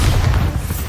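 A loud, deep boom from the Bombarda spell in the PC video game Hogwarts Legacy, a dense rumbling explosion filling the moment.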